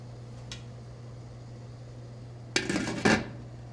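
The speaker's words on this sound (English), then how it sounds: "place the lid on the pot" A metal lid clatters onto a canning pot with two quick clanks, after a faint earlier tap, over a steady low hum.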